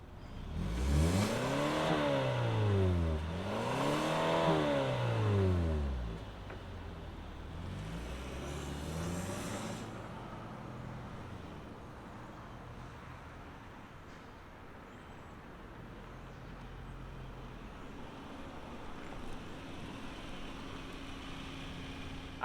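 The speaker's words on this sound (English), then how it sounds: "let's fire it up and hear what this 4-banger sounds like" A 2025 Kia K5 EX midsize sedan with a naturally aspirated inline four-cylinder starts up and revs twice in rising and falling sweeps, then settles into a quiet, steady idle.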